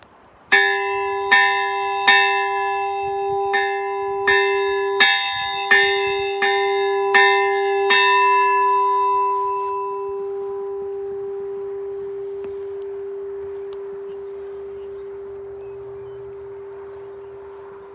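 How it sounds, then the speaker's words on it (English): Church bell rung outdoors in drizzle, a clear metallic toll struck about a dozen times at a steady pace, each strike blooming with bright ringing overtones, then left to hum and decay slowly for several seconds, no voices. "Come on, bell, start ringing."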